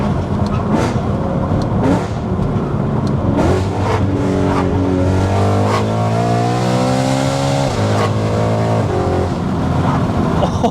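A BMW E92 M3 with a loud custom exhaust revs hard at around half throttle, the engine note climbing and falling in several close, powerful pulls with sharp pops between them, and a voice briefly audible.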